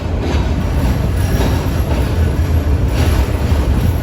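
The Meghna Express rolls out of Chandpur Court railway station, a loud, steady rumble of wheels and carriages heard from on board.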